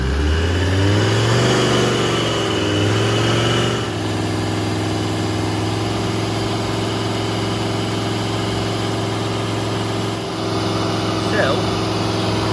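A Volvo D5 diesel engine revs up and is held at a steady high speed, its loud droning note climbing at first and then sustained evenly, with a brief dip near the end.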